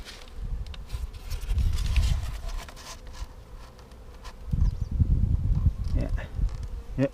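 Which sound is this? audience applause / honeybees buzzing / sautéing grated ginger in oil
honeybees buzzing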